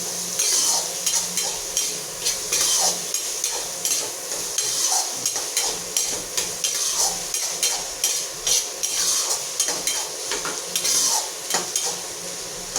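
Onions frying in a pan for an egg curry, with a constant oily sizzle under repeated scraping strokes of a spoon against the metal, close and steady with no talking.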